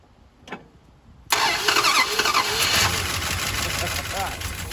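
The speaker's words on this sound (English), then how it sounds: "go inside the car and start it from there" 1971 Dodge Charger Super Bee engine, unstarted for 34 years, cranks and fires abruptly into a loud, rough idle with some revving, heard close up after a brief quiet moment.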